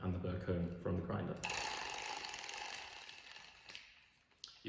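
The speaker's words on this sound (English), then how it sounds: "You can hold the clicker with this hand and turn the crank." A Comandante hand coffee grinder's crank being turned, giving a steady dry ratcheting, grinding rasp that runs for several seconds and fades near the end, with faint speech underneath at the start.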